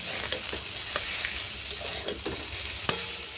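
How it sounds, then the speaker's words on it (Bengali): Fried Maggi noodles with egg and a pinch of salt are stirred in a pan, a gentle sizzle under repeated sharp scrapes and clicks of the spatula against the metal, close and without voices. "নুনটা দিয়ে ভালো করে নেড়ে নেবো।"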